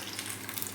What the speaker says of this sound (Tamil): பாருங்கள், கரண்டியில் தான் தாளிக்கிறாங்க.